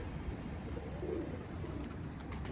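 Pigeons coo softly in a low, throaty murmur over a steady background hum, with no one talking.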